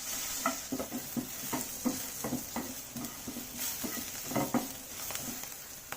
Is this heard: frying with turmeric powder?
yes